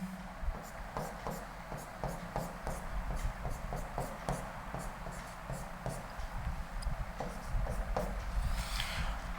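Chalk scratches across a classroom board as names are written out, a steady run of short taps and strokes in an irregular rhythm over a low room hum.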